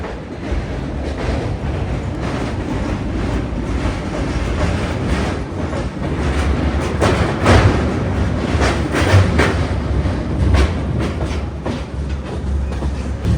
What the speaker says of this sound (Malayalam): ട്രെയിൻ വളരെ പയ്യാ പോകുന്നത്